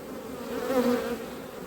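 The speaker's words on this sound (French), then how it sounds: "vous avez toujours des abeilles qui viennent vous tourner autour quand vous arrivez au rucher" Bees buzz around an apiary in a continuous close hum that swells briefly as one flies past, with no voices.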